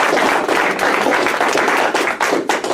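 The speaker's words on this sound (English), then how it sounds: "So we want everybody a big round of applause for Mike Maharrey." Audience applause for speaker Mike Maharrey at a 10th Amendment Center gathering, dense continuous clapping from a room full of people, close and loud throughout with scattered sharper claps.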